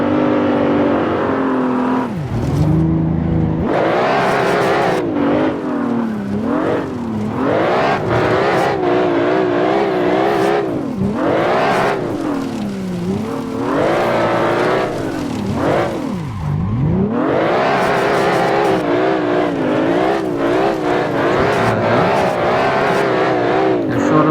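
A tuned BMW 520i engine in the Assetto Corsa racing game, revving hard and dropping repeatedly as the car spins out, with rising and falling engine pitch and a faint tire squeal, loud and continuous throughout.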